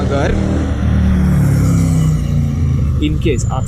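A motorcycle rolls slowly with the clutch held in, its engine running in a steady low rumble close by, and someone talks over it throughout.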